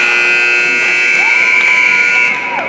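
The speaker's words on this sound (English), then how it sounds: "And there's the buzzer." A loud, sustained electronic buzzer ends an ice hockey period over crowd noise in an arena, holding its tone for a couple of seconds before cutting off.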